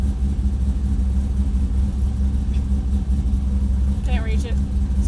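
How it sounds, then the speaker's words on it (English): A track car's engine idles with a heavy, steady low rumble and vibration carried through solid engine mounts, close and continuous, while a person speaks briefly near the end. "You can thank the solid engine mounts for that nice vibration."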